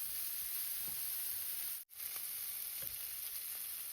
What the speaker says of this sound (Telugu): ఇందులో కొద్దిగా పసుపు యాడ్ చేసుకొని ఉల్లిపాయలు, టమాటాలు సాఫ్ట్ అయ్యే వరకు ఫ్రై చేసుకోవాలి